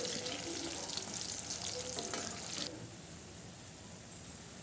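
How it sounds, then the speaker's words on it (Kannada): Wheat flour chips deep-fry in hot oil with a loud, dense crackling sizzle. It drops to a softer, steady hiss partway through, with no voices. "ಸ್ವಲ್ಪ ಸ್ವಲ್ಪನೇ ನಾವು ಆಯಿಲಲ್ಲಿ ಹಾಕಿ ಡೀಪ್ ಫ್ರೈ ಮಾಡಬೇಕು ಅದು ರೋಸ್ಟ್ ಆಗೋವರೆಗೂ ಫ್ರೈ ಮಾಡಬೇಕು"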